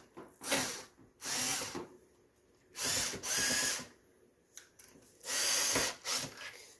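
A power drill-driver drives screws into a Xantrex HFS2055 charger during disassembly and repair, in four close bursts of whirring a second or so each, separated by brief pauses and faint clicks.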